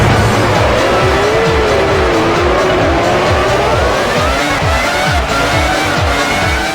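Formula 1 race cars from the 2001 season roar in the F1 2001 video game, with engine notes climbing and falling as they pass, and tire squeal over a steady loud racing din.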